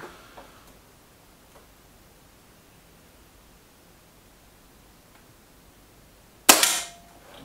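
A single sharp crack from a Trimex Arms Elf S or Kral Puncher Knight air rifle rings out near the end after a quiet stretch, loud and close with a brief decaying tail.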